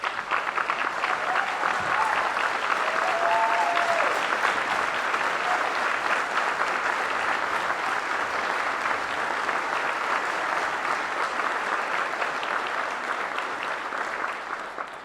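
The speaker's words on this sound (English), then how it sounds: "I ask you to give her a big round of applause" A large audience at a state address applauds continuously, dense sustained clapping that stays loud and steady, with a few faint whoops rising over it before it eases slightly toward the end.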